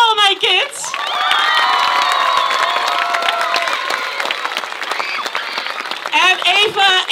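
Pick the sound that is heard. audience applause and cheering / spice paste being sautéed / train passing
audience applause and cheering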